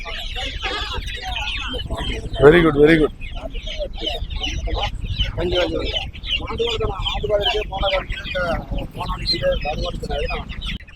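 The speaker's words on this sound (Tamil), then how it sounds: "இது வந்து போண்டா கோழி நிறைய முட்டையிடும்" A Bonda hen, a heavy egg-laying breed, clucks in short bursts at the Pambu Kovil market, mixed with nearby people talking and bustling crowd noise.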